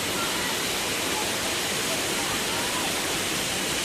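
A hidden waterfall in Cireunghas, Sukabumi, roars as a steady, dense rush of falling water close by, with wind adding to the constant noise.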